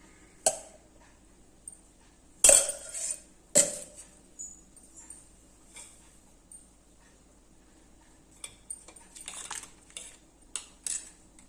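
A metal ladle clinks against a steel tiffin box as it is filled with sambar. Several sharp, separate clinks and clatters come close by, with quiet pauses between them and no talking.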